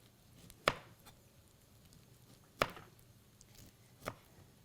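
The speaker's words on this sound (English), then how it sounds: "you want to take a knife and you want to do nice thin slices of the Brussels" A knife slices thinly through Brussels sprouts on a cutting board, giving three sharp, quiet cuts spaced a second or two apart against a faint, still background.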